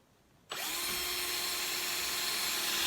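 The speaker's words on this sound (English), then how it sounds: "we're going to go ahead and just drill the hole here." A power drill bores a hole in the wooden top of an HO scale model train layout table, starting suddenly and whirring steadily and loudly up close without a break.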